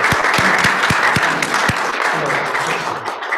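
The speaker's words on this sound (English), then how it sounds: "Can we get one last round of applause for all of..." Audience applause at a Unitarian Universalist gathering, loud and close, with sharp individual claps standing out over a steady wash of clapping that fades slightly toward the end.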